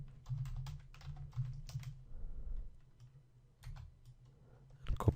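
Fingers type text on a computer keyboard in quick bursts of close, soft clicking, pausing briefly before a last short flurry of keystrokes.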